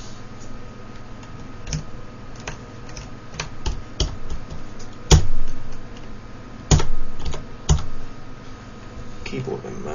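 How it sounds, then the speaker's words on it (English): Computer keyboard typing during a session of wing detailing work, with irregular clicks and taps scattered across the span and a few sharper, louder knocks, heard close. "Keyboard went mad there for a minute."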